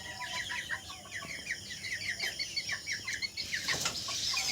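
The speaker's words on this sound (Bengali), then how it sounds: "এই যে একটা মোরগ যেটা উঠছে দেখুন, এটা কত সুন্দর দেখতে।" Flock of hens and roosters on a farm clucking in rapid repeated chatter, close and continuous, with a brief rustle or flap near the end.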